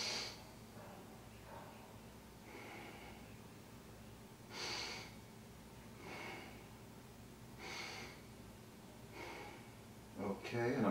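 A person breathes deeply and slowly in close, audible cycles, about five drawn-out inhales and exhales spaced evenly, ending with a louder, rougher breath.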